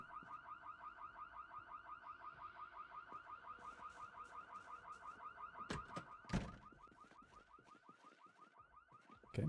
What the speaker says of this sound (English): one of the zombies activated some sort of alarm.